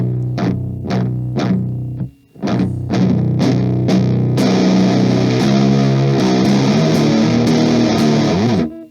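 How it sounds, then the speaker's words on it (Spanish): Electric guitar played through a modified Boss Metal Zone distortion pedal: several short, punchy chugged chords, a brief gap, then a loud sustained distorted chord ringing out for several seconds. "La distorsión es un poco menor, pero no tiene esos agudos horribles y tiene mucha más dinámica."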